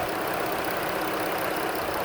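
A 2018 Dodge Caravan wheelchair van's 3.6-litre V6 idles with the hood open, giving a steady, even hum with a smooth constant drone throughout, heard up close and alone.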